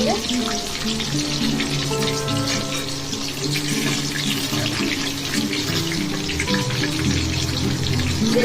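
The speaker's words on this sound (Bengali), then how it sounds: "এক পিট ভাজা হয়ে গেছে আর এক পিট ভেজে নিচ্ছি ভালো" Small pan fish (chara pona) frying in hot oil for a spicy curry, a steady close sizzle and crackle running throughout, with faint background tones and no speech.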